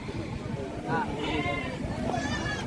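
Goats bleating at a busy Friday goat market in Ettayapuram, a couple of wavering bleats rising over a crowd of people talking nearby.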